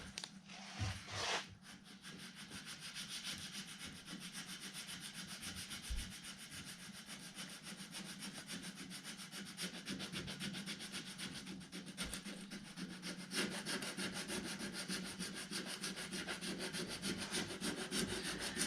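Hand block sanding on the body of a 1968 Plymouth Barracuda with 80 grit sandpaper, using a paint-paddle block: a steady, close rasping scrape of rapid back-and-forth strokes that continues throughout with no talking.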